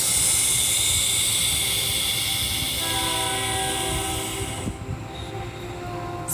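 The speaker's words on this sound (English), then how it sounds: "Train confirmation." A train rolls past with a steady rumbling roar of wheels on rails and a faint sustained horn-like tone, loud and continuous before easing slightly near the end, with no talking.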